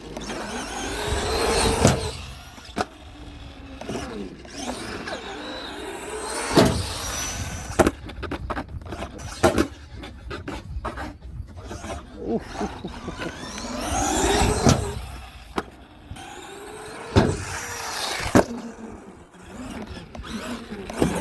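Arrma Gorgon RC car driving around a skatepark, its electric motor whining in repeated bursts with sharp clacks and thumps from landings and impacts, loud and close throughout.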